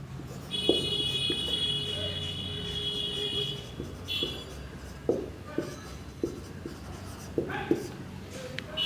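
Chalk or marker writing on a classroom board during a biology lecture on animal tissue structure, scratchy strokes and taps in short bursts, with a teacher's voice talking in between.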